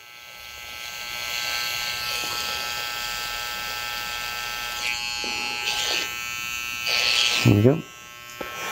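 An electric hair trimmer buzzes steadily while cutting a short men's haircut, with the comb fed down into the hairline; a few brief spoken words come near the end over the continuous whine.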